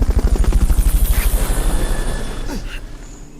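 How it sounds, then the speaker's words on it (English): Helicopter in the video game Metal Gear Solid: Peace Walker, a loud, close rhythmic rotor chop that gradually fades and thins out toward the end. "Fulton recovery subject confirmed onboard helicopter"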